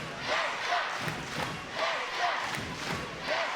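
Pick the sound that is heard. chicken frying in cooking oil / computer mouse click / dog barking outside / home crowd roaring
home crowd roaring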